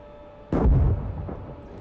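A single heavy, booming shot bursts out in Gunner Heat PC, a tank simulator, fired by a distant enemy, followed by a rumbling decay over a low engine drone.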